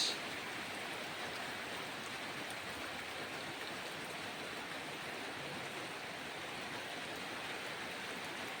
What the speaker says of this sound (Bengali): অনেক দিন পর বৃষ্টি আসলো